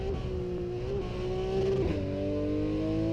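Porsche 911 engine in the Assetto Corsa racing game, a steady loud engine note holding revs and then shifting to a new tone, continuous throughout with no talking.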